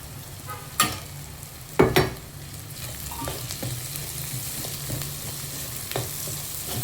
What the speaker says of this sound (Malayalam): എല്ലാം നല്ല മൂത്ത് വരുന്നിടം വരെ ഒന്ന് ഇളക്കി യോജിപ്പിച്ച് എടുക്കുക